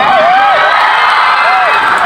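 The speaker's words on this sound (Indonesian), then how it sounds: "Tepuk tangan dong." Dense crowd noise of an audience clapping and cheering fills the hall at the opening of a haul gathering at Pondok Buntet Pesantren, steady and loud throughout, with a few thin whistling tones rising above it.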